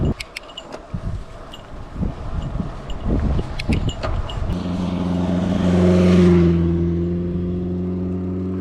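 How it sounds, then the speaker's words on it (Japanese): A motorbike passes on a road in July in Hokkaido, first a mix of rustling and clicks, then the engine swelling close and loud with a strong steady drone that shifts pitch as gears change, fading slightly at the end. "今の人バイク運転うまいと思う。 ギアの変え方の音で分かった。"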